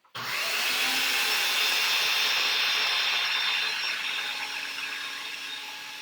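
A blender roars to life abruptly and grinds a cumin lime black bean dip loudly and steadily, its motor tone easing slightly toward the end. No voices.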